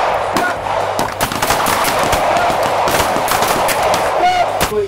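Pistol fire during a close retention shooting drill on a range, a rapid series of sharp, close gunshots in irregular bursts with echoing cracks between them.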